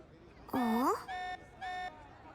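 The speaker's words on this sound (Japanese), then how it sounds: "警報が気になる。" A base alarm in the video game Xenoblade Chronicles sounds as a rising electronic siren sweep followed by two shorter steady tonal beeps, loud and clear with no talking over it.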